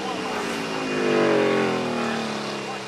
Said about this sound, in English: as we watch these cars get their first laps in the first group of qualifiers